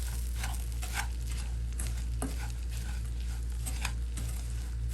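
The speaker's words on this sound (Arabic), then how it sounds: "انا احب دائما احمس البسكوت مع الزبدة" Biscuit crumbs toast in butter in a pan with a soft, continuous patter and faint sizzle. Occasional light scraping from stirring sits over a low, steady background hum.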